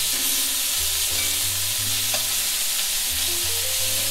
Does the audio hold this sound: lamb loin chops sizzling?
yes